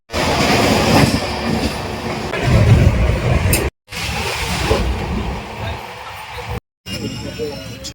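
The Tamralipta Express, a train from Howrah towards Digha, runs with a loud continuous rumble of wheels and carriages, interrupted by two brief dropouts and with some faint clatter.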